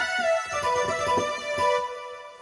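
Smooth solo monosynth sample from a custom MPC pack plays a sustained, harmonically rich lead with steady tones and gentle pitch movement, heard alone at moderate level throughout.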